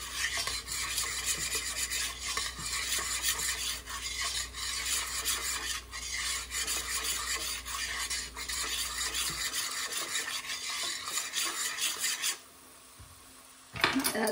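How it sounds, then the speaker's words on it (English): A spoon scrapes and stirs flour into corn chowder in a pot, a close, continuous rasping swirl that runs steadily before dropping away near the end. "2 to 3 tablespoons of flour. And stir that all in."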